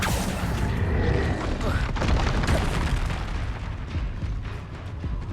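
Confringo blasting-spell explosions from Hogwarts Legacy boom in a dense, continuous roar of blasts and crackling bursts, loud and close, with game voices partly mixed underneath.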